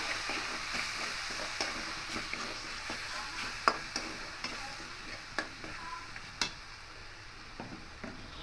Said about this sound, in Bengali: এখানে টমেটো পেস্টটা দিয়ে দেবো দিয়ে ভালো করে মিশিয়ে নেব